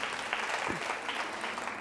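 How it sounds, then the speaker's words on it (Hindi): A seated audience at a college anniversary quiz show in Jaipur breaks into steady, dense applause that holds at an even level throughout, with no voices over it. "तालियां जोरों से बजाइए इनके लिए"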